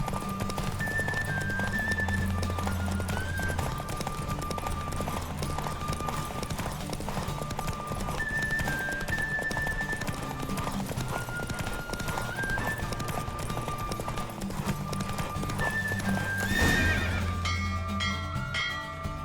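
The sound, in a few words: horse galloping in a video game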